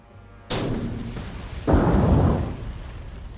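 Torpedoes strike a cruiser in the naval game War on the Sea, a sharp impact followed by a second, deeper muffled boom that rumbles and fades, heard fairly far off without voices.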